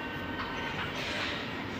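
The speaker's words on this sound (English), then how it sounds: "Ferny Grove train approaching platform 2." An SMU electric train pulls into platform 2 at South Brisbane station, a steady rumbling rail roar with a broad hiss of wheels on track, continuous and fairly close throughout.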